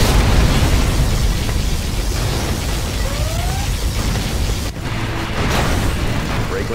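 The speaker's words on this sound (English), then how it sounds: "Warning, particle cannon activated." Loud, continuous roar of a particle cannon and explosions in a real-time strategy battle on the River Bed map, booming and crackling throughout with a brief dip near the end, no talking.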